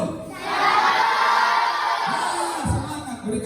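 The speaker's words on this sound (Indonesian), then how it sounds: "Sekali lagi saya mau dengar suara anak-anak yang di sini dulu." A large group of schoolchildren at a Christmas service shout back a greeting together in one loud, sustained crowd roar that fades after a few seconds, with scattered voices trailing off at the end.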